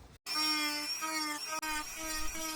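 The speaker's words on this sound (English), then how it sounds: "I'm using the Dremel 3000 right now" A Dremel 3000 rotary tool run from a foot pedal carves a cedar board with a cheap bit, a high whining buzz starting after a brief silence, its pitch wavering as the bit bites and eases, with one short pause.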